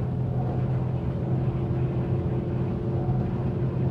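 Viggo C8, a 30ft leisure boat, running at 28 to 40 knots on its outboard engine, giving a steady, loud, close engine drone with rushing water and wind noise throughout, no talk over it.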